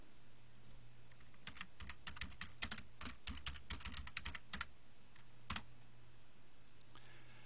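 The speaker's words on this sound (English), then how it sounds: "go to Google and type in your search term" Search term typed on a computer keyboard: a quick run of light plastic key clicks in uneven bursts, followed by a pause, a single firm keystroke, and a few faint trailing taps over a low steady hum.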